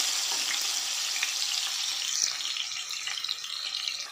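Jackfruit and potato pieces fry in hot oil in a kadhai over a high flame, giving off a steady, even sizzle with occasional soft crackles and no talking.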